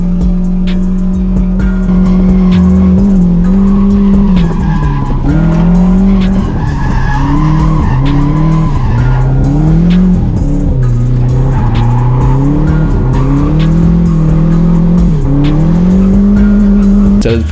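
Drift car skidding with sustained tire squeal and a loud revving engine during left-foot-braking transitions on a track, the pitch swooping up and down continuously for the whole stretch.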